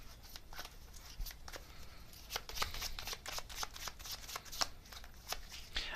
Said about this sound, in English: let me get another card here